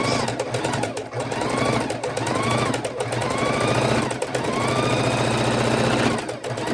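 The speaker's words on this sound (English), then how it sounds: "So I'm going to go ahead and sew these two together." A sewing machine runs steadily for the whole stretch, stitching two quilt fabric pieces together with a dense mechanical whir, close and loud, briefly slowing a few times before picking back up.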